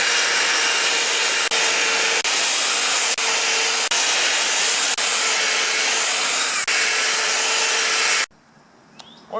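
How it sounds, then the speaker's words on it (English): Steady, loud abrasive rasp of sanding Bondo body filler on a Buick, running continuously with brief regular breaks for about eight seconds before stopping, leaving a quiet tail. "But for now we start sanding."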